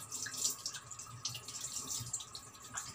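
Sea bass fish rinsed under a running tap, with steady splashing water and scattered drips close by, continuous for the whole stretch.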